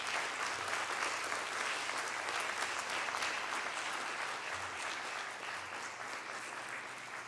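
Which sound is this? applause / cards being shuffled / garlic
applause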